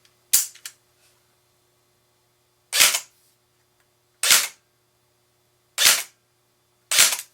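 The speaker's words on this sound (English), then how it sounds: "So it is much louder with the recoil system, with the BWAH system integrated with this rifle" A Lancer Tactical airsoft carbine fires single shots with its blowback recoil system, five loud, crisp mechanical cracks spaced a second or more apart with silence between, the first one followed by a quick rattling echo.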